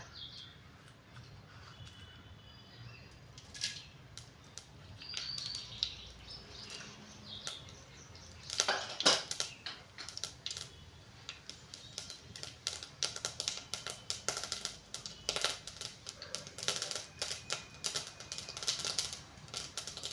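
Mustard seeds and urad dal spluttering in hot oil, sparse crackles early that build into rapid, sharp popping bursts toward the end, close and fairly quiet with no talking.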